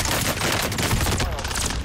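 Call of Duty: Warzone gunfire: a loud, close, continuous barrage of rapid shots crackling throughout a brief burst.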